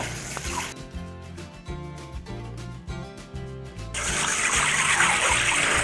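Water pours and drains from a pot of lentils being rinsed, a steady splashing gush that turns to a broad rushing stream near the end, close and fairly loud.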